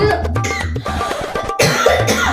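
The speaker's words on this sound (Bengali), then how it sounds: "দেখতে পাচ্ছ তো কাশি হচ্ছে" A series of harsh, close coughs in quick succession, loud and throaty, with a short pause before a final rough cough.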